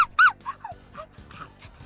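Two dogs whimper and yip in a visual novel game while being offered water and beef jerky on the grass, with short high squeaky whines repeating near and fairly loud.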